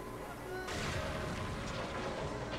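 A tank cannon in Spyro: Enter The Dragonfly fires a single loud, booming blast that swells abruptly and rolls on over constant game background noise.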